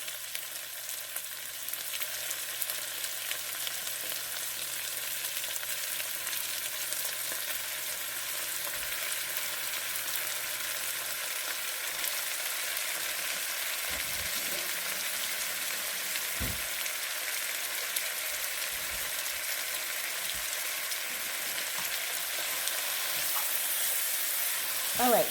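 Ground beef frying in a pan, a steady broadband sizzle that holds at an even, moderate level throughout, with a few brief sharper pops and crackles partway through.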